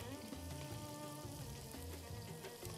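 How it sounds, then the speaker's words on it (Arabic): Onions frying in a cooking pot with butter while being stirred, a soft steady sizzle at close range with light scraping, quiet and continuous under faint background hum. "نبتدي نحرك في البصل"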